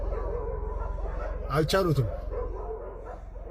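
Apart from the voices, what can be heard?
dogs barking at a hyena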